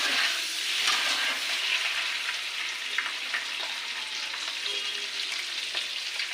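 Eggs fry in a pan until reddish, giving a continuous loud sizzling hiss that stays fairly even throughout, with no voices.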